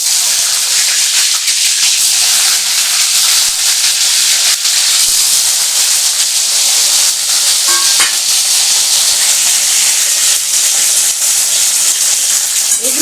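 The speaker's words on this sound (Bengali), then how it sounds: "একটু ভালো করে ভেজে নেব" Cashews and other ingredients fry in hot oil in a kadai with a loud, steady sizzle and hiss. A few light utensil taps sound near the end, and no one speaks over it.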